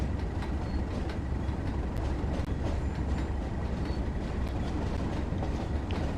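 A Class 37 diesel locomotive on the Tees Valley Line in Train Sim World, heard as a steady, loud rumbling engine drone with rail clatter throughout, alone without talk.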